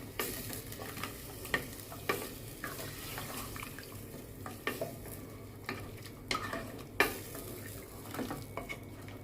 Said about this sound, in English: Then you add your mixed masala water. You fry for 15 minutes.